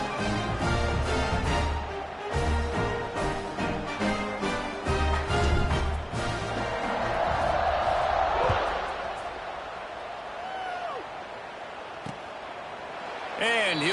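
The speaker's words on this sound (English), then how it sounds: "this crowd is buzzing after that last score" Football stadium crowd buzzing with a steady roar after a score, under continuous play-by-play commentary, with sharp thuds and bursts of cheering rising and falling across the clip.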